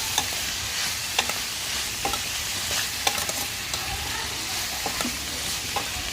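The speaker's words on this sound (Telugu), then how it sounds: "కొంచెం సాంబార్ పొడి వేసేసుకొని మొత్తం బాగా కలిపేసేసుకున్నాం" Spoon stirring a frying mixture with sambar powder in a pan in a village kitchen, with continuous sizzling and irregular scraping clinks close by, no talk.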